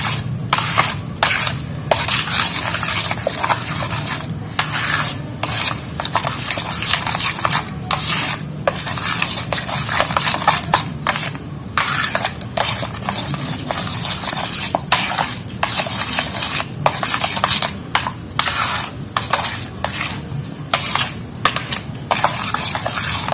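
Palm fruit pulp being stirred and mixed with sugar for taler pitha, a steady close scraping and rubbing sound with rhythmic strokes throughout, no talking.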